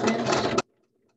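A sewing machine stitching a half-inch seam on a dress waistband tie, a steady dense mechanical whir running close and loud for about half a second before stopping abruptly into near silence.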